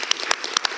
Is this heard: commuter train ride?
no